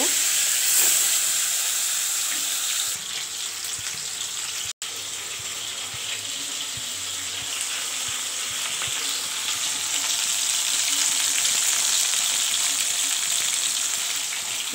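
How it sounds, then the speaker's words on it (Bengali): Bhola fish frying in a pan with oil, a steady, close, loud sizzle that holds throughout, with a brief sharp click partway through and no talking. "ভোলা মাছটা ছেড়ে দিচ্ছি, ভেজে নেব।"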